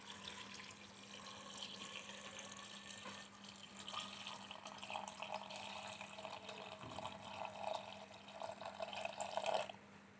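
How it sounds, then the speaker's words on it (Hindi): Water runs steadily into a pot for a bamboo shoot dish, a continuous splashing pour that stays fairly even and alone, over a faint low hum. "अब उसी में पानी डालूंगी।"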